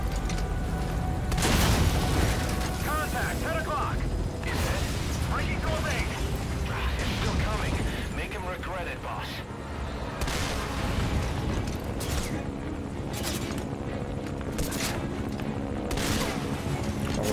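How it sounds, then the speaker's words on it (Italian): Video game explosions and gunfire from Metal Gear Solid V form a loud, dense barrage of booms and bursts, with sharp blasts repeating through the second half. "Esplosioni adesso."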